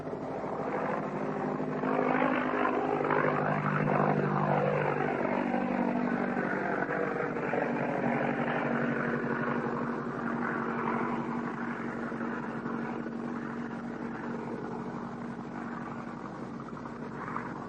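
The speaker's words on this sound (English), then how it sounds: "That's the sound of an OX5 engine." Piston engine of a World War I biplane powered by an OX5, flying by slow at about 65–70 mph: a steady droning roar that swells and sweeps past, then holds a throbbing hum, heard alone.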